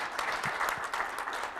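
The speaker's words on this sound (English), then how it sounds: "So a nice round of applause for Chris" An audience at a nursing project presentation claps in a brief, dense burst of applause, steady and fairly close throughout.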